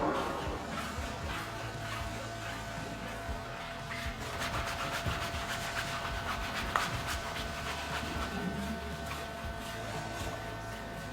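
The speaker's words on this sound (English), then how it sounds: "using a brush gave it a good scrub down" A stiff brush scrubs across a foamed black fabric soft top on a Porsche Boxster, a quiet, continuous rubbing and scratching with soft bristle rasps and small bumps, heard close and faint.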